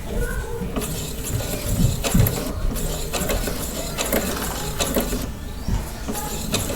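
Domestic sewing machine stitching fabric for a simple pillow, a steady mechanical whirring and clattering at close range that runs throughout with brief pauses and shifts in pace.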